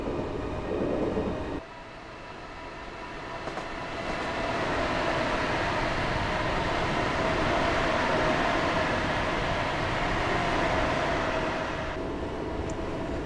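An electric train in Train Simulator 2018, on the London Liverpool Street to Shenfield line, coasts with power off. A steady rumble of wheels and a cab hum run continuously, swelling slightly and holding level.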